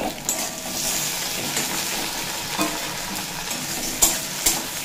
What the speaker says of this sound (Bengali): এই টমেটোটা নরম হওয়া পর্যন্ত নাড়াচাড়া করে নেবো